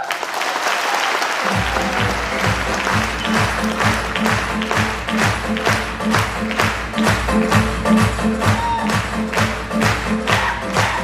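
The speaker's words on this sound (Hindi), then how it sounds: "एक बार जोरदार तालियां।" A loud burst of crowd applause erupts at a Safe Shop business seminar after a moment of quiet. Vigorous, sustained clapping fills the room for the rest of the stretch, with a pulsing rhythmic backdrop underneath.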